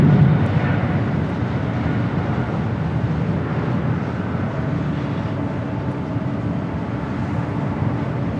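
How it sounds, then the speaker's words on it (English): A Japan Airlines Boeing 777-300 jet airliner at Los Angeles airport produces a continuous broadband roar, strongest at the start and easing slightly to a steady rumble. "Japan Airlines 777-300 flight heading back to Tokyo Haneda"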